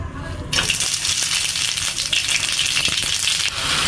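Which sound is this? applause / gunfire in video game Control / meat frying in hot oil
meat frying in hot oil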